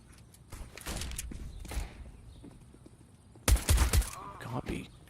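Rifle fire during a Counter-Strike match on Inferno, with scattered tapping shots followed by a loud cluster of rapid bursts, then a few more shots trailing off.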